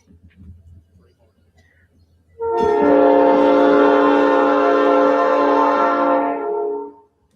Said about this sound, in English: I forgot all about that train.